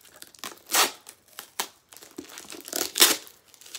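Packing tape tearing and crinkling off the cardboard flaps of a crystal subscription box, in several short, sharp rips and crackles at close range, with no talking.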